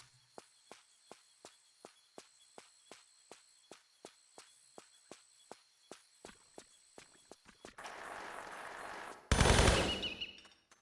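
Gunfire from a weapon in the video game Tomb Raider III rings out as a long, even series of sharp, regularly spaced shots, moderately loud, and gives way at the end to a rushing noise burst and a louder blast.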